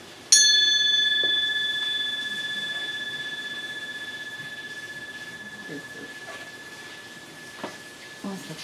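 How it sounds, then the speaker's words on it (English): A gong is struck once, close and loud, and its bright metallic tone rings on and fades slowly over about eight seconds. A few faint knocks are heard near the end. "So I'm going to ring the gong."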